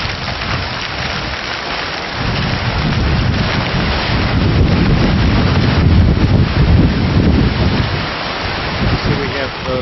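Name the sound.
small waterfall on university campus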